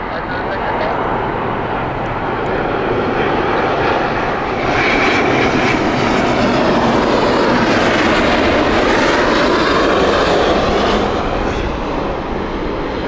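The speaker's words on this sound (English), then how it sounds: "first Asiana Airlines with their Airbus A350 and 900" An Asiana Airlines Airbus A350-900 arriving at Heathrow Airport makes a loud, sustained jet engine roar that swells a little midway and stays steady, with a faint voice behind it.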